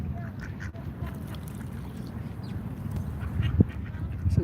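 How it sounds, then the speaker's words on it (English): Ducks quack at a pond in an outdoor setting, a few soft calls scattered over steady low rumbling background noise, with a sharper burst near the end. "Usually they start quacking real loud when there's a dog,"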